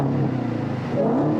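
Engine of a 2018 Dodge Challenger SRT Hellcat Widebody revving up close, a loud continuous low rumble with rising pitch sweeps as the throttle climbs, heard alone.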